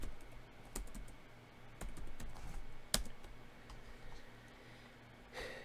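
Keystrokes on a computer keyboard while typing a search query, a few sharp clicks spread irregularly over a quiet room hum, close and moderately soft, with no talking.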